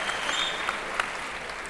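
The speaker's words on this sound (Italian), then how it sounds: "Mi faccio l'applauso da solo" Light applause from a small crowd or a single person clapping at a talk show taping, soft and fairly distant, with scattered sharper claps over a low room hum.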